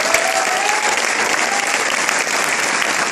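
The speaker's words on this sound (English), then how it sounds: "Can we please give him a round of applause?" A large audience gives a loud, dense round of applause, continuous and even, with faint cheering mixed into the clapping.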